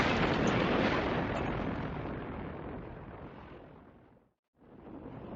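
A townhouse with a terracotta roof explodes into flames as a loud, broad blast that slowly fades, cuts to a short silence, then returns as a rumbling roar.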